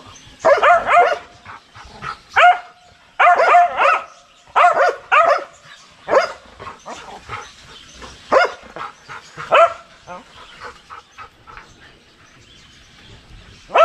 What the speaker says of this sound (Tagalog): Kilos yung mga aso natin.